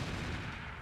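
Weapon fire from a mech in the RogueTech BattleTech video game, heard as a short, dense, steady rumbling burst of fire that stays at fairly low volume throughout.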